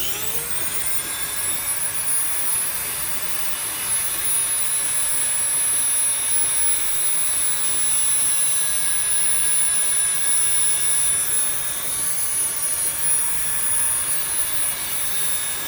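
A Dremel rotary tool grinds and shapes wet stone with a steady, loud, high-pitched whine. The tone holds at an even speed with no pauses, and nobody speaks.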